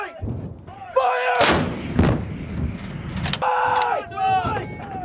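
Artillery guns of an air assault course firing on command, several loud booming blasts spaced a second or two apart, with shouted commands between the shots.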